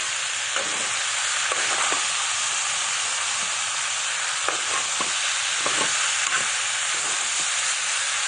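Pasta and vegetables fry in a pan with a steady, close sizzle and hiss, broken by occasional scrapes and clicks of stirring, and no talking.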